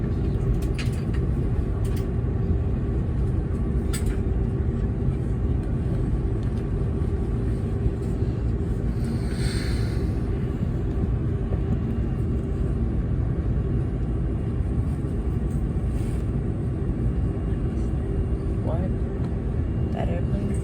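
A Hawaiian Airlines Airbus A330 on its takeoff run from New York JFK, heard from inside the cabin as a steady, loud low rumble of engines and fuselage, with faint chatter nearby.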